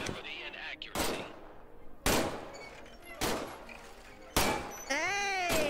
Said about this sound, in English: Fire pistol. Squeeze the trigger to fire.